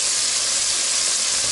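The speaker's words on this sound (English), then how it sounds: "it's frying up really nice" Chicken pieces fry in hot oil with a loud, steady, even sizzle that hisses continuously from close by, with no voices.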